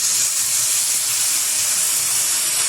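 Soy sauce hits a hot pan while a Chinese bhel is being cooked, giving a loud, steady sizzle and hiss that fills the whole moment with no break.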